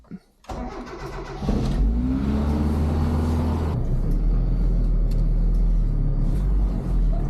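A tractor engine on a kale direct-drilling farm cranks briefly, catches and settles into a loud, steady low rumble with choke applied, close by and continuous for the rest of the clip.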